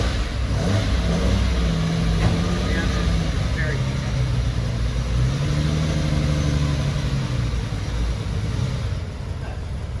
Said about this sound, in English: let's have a moment of silence for the wild Lamborghini engine noise